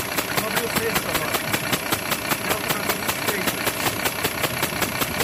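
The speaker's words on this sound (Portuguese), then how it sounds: "O motor normalizou o ronco." A car engine idles steadily with a fast, even mechanical ticking and knocking pulse, close and continuous throughout, during a piston fault check.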